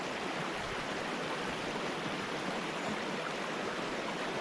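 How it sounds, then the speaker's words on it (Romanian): A mountain stream flows along a hiking trail toward the limestone 7 Scări canyon in Romania, producing a steady, dense rushing wash that stays even and unbroken throughout. "Deja mergem pe lângă apă. Este un părâu foarte frumos."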